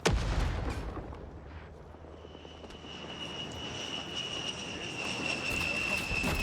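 In Rising Storm 2: Vietnam, a grenade blast bursts loudly at the start. A rumbling battlefield din with a sustained engine-like drone follows and grows steadier toward the end.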